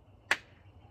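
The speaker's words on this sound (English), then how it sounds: "stand up slowly, breathe in, arms all the way up, and clap." A single sharp hand clap, close and crisp, rings out once during a kids' yoga class and then fades, leaving quiet room tone.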